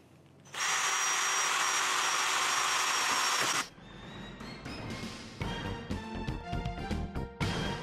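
An electric drill boring pilot holes in a metal motherboard tray: a loud, steady high whine for about three seconds, then quieter scattered clatter and handling knocks nearby.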